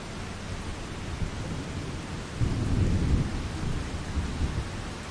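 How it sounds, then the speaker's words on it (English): Farming Simulator 25 rain: steady hiss with a low, rumbling roll of thunder swelling midway, moderately loud and continuous throughout. "while it's raining."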